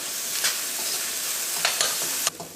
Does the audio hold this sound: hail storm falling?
no